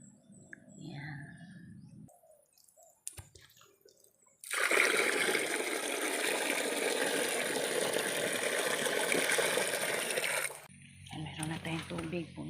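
Water flowing steadily in a farm field, a loud continuous rush lasting several seconds between quieter stretches with faint birds and brief human sounds before and after.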